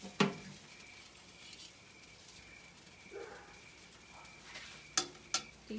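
Vegetables cooking on an outdoor gas grill on a porch, a low continuous sizzle with scattered sharp clicks and taps from utensils against the grate.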